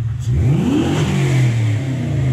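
A Toyota pickup fitted with a 1UZ-FE V8 and manual gearbox revs loudly, its engine note sweeping up and back down in a smooth cycle that stays close and steady throughout.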